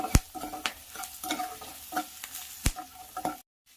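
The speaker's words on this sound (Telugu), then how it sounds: "తగినంత ఉప్పు వేసుకొని దీన్ని ఇలా ఫ్రై చేయాలి" Turmeric and salt seasoning for poha sizzles in a pan as a spoon stirs and scrapes through it, giving sharp, irregular clinks over a steady low fry before cutting to silence.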